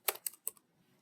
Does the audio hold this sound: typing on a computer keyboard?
yes